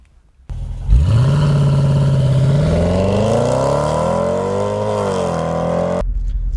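A Range Rover SVR starts up and accelerates, its engine rising into a loud, close roar that climbs in pitch, holds steady, then cuts off abruptly.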